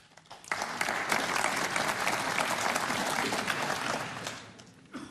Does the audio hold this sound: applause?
yes